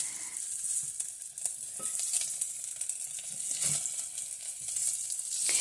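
Sausage and potato sizzle in a pot for navy bean soup, a continuous soft frying hiss broken by occasional scraping stirs, close and moderately quiet with no one talking.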